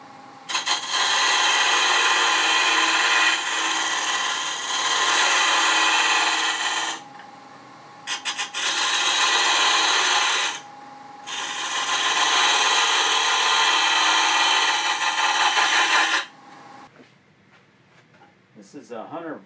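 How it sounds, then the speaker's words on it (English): A Hunter Viceroy tool with a cupped carbide cutter scrapes and undercuts the lip of a turned wooden box, giving loud, continuous rasping bursts in three long passes separated by brief pauses, then a quieter tail. "I'm going to be able to undercut the lip with this."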